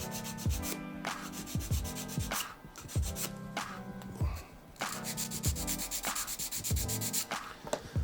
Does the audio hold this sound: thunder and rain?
no